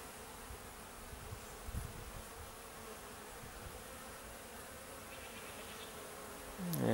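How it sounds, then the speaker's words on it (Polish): A steady, dense buzz of many honeybees around a hive in an apiary hums continuously, close and moderately loud, with no voices. "pszczoła krąży właśnie tutaj, fajnie, brzęk się zwiększa"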